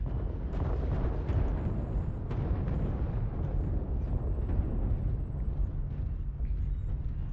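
Sustained rumbling explosions from an artillery strike in the MechWarrior Online mech combat game, a dense continuous roar with scattered sharp bursts, loud and close throughout.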